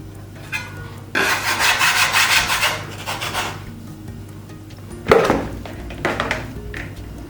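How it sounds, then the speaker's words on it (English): A dough scraper rasps against a wooden board while bread dough is worked by hand, in two clear bursts of dry scraping with a soft thud and lighter rubs between them. "I am working the dough on a wooden board with a dough scraper"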